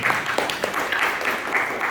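A church congregation claps together during a worship service, a brief spell of dense, moderately loud applause with scattered sharper claps.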